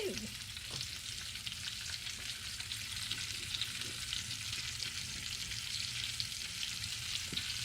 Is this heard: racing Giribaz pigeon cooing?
no